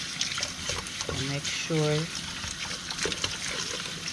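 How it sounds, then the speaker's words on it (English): Quinoa is washed by hand in a container of water, giving a continuous close sloshing and trickling with scattered splashes under brief speech. "When me washing in my quinoa now"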